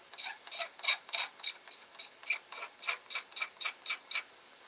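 Shavings are scraped off a plastic lighter case in a quick, even series of about fifteen rasping strokes, close and crisp, with no one talking.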